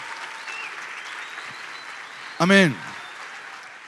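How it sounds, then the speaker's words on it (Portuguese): An audience applauds a band with steady, continuous clapping throughout, while someone briefly speaks over it near the end. "Podemos dar um aplauso a esta banda incrível?"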